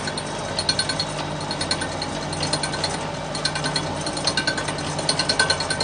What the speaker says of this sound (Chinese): 一定要看这个刀片跟这个砂轮之间，它起火花